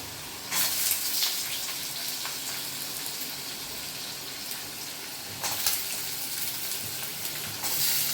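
Steady hissing sizzle of potatoes frying in a wok, swelling louder in a few bursts as pieces hit the hot oil.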